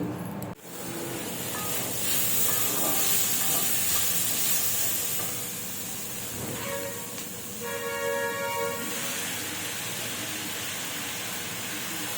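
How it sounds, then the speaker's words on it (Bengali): Bori lentil dumplings frying in a pan give off a steady broadband sizzle that runs almost without a break, with some scraping and stirring noises partway through. "একটু ভালোভাবে বড়িগুলো ভেজে নিই"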